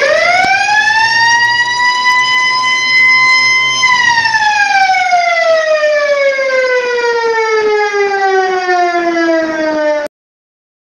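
A Tucano alarm siren wails loudly and alone, its tone sweeping up, holding, then gliding steadily down for about ten seconds before cutting off abruptly.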